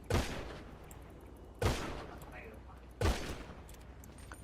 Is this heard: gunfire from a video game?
yes